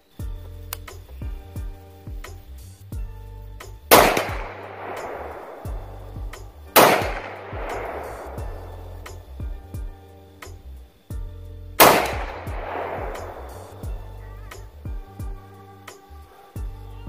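Rifle topped with a Pinty 3-9x40 scope firing three loud, sharp shots a few seconds apart, each ringing out briefly over a quiet steady hum.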